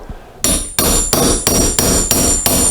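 Six evenly spaced, loud hammer blows drive a push rod tube into place on a 1983 BMW R80ST, each strike a sharp ringing metallic hit close by.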